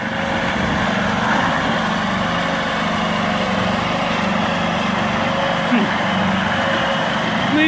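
A homemade tank's small engine runs steadily as it backs up, a loud, constant mechanical drone with a buzzing, lawn-mower-like tone and little change in pitch throughout.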